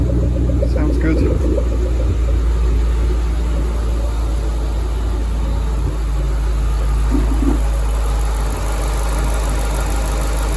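An Alfa Romeo car engine idles with a steady low rumble and vibration, close by, while a person speaks briefly over it.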